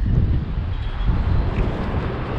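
Winnipeg wind buffets the microphone in a steady low rumble with gusty surges, no voices, throughout.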